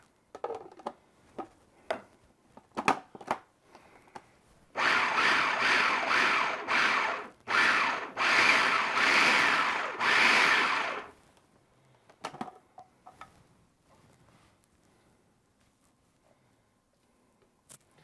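An electric meat grinder whirs in several loud bursts of a few seconds each, separated by short pauses, with scattered clicks and handling noises around them.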